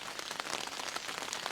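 Rain drums on a Teton Sports Mountain Ultra 1 tent, close and dense with irregular heavier drops pattering on the fabric over a constant hiss.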